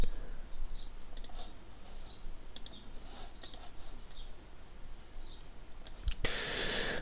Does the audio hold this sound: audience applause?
no